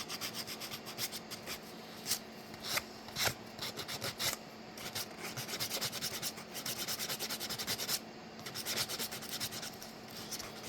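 Steady rasping strokes of sandpaper on a 3D-printed plastic VFO knob for a Xiegu G90 ham radio, close and continuous with brief pauses, no talking.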